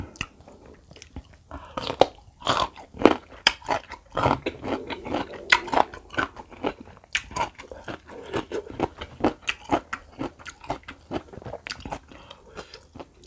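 Crunchy old-style salt-pickled mango, eaten with a fish-sauce dip full of shallots, gives close, loud crisp bites followed by steady wet chewing and smacking, repeated throughout with no talking.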